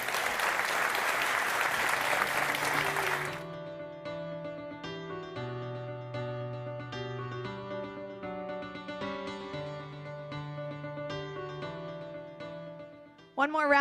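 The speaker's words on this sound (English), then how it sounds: "One more round of applause for our morning speakers, demoers, presenters, customers." An audience at Palantir's AIPCon conference bursts into loud, dense applause for about three seconds, which cuts off abruptly and gives way to a calm, sustained melodic music bed with a brief loud hit at the very end.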